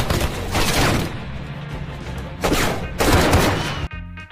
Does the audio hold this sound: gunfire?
yes